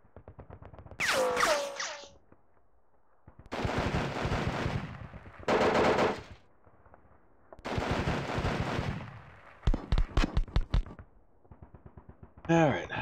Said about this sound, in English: You can always tell the partisans are shooting, because it's no automatic weapons fire. It's kind of like pop, pop of a couple of rifle shots.